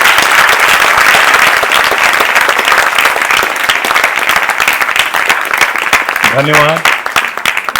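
A crowd gives loud, sustained applause at a cultural festival performance, thick continuous clapping throughout, with a single voice speaking briefly near the end.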